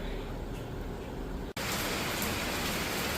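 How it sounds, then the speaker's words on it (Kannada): Heavy rain pours down in a dense, steady hiss; the roar cuts out for an instant partway through, then returns even louder. "ಬೆಳಿಗ್ಗೆ ಬೆಳಿಗ್ಗೆನೆ ಜೋರು ಮಳೆ"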